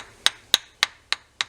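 A hammer handle strikes the spine of a knife blade five times in a steady rhythm, each a sharp, close knock with a short ring.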